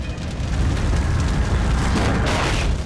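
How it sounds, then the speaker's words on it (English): Tank battle explosions in a wartime combat scene, loud deep booming blasts and rumbling over constant noise, one burst flaring near the end. "A sea of fire, constant shooting,"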